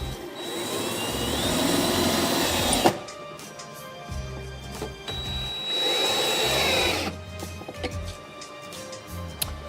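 A power drill or driver whirs in two long sustained runs while driving screws to mount a charger, with clicks and knocks of handling between, close and loud.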